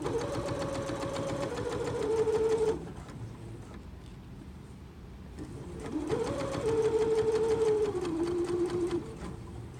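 A sewing machine stitches fabric seams for a patchwork pillow, running in two loud close bursts of fast whirring with a quieter pause between them.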